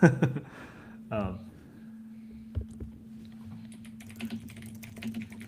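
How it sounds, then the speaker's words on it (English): Typing on a computer keyboard, faint scattered key clicks running under a steady low hum, with a voice heard briefly at the start. "I keep typing in the wrong computer"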